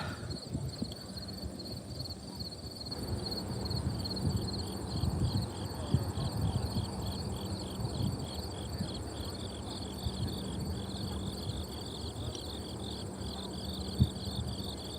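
Grasshoppers chirp loudly in the morning at Fort McHenry in a steady, pulsing high buzz that fills the whole stretch, with faint rustling and a couple of thumps beneath.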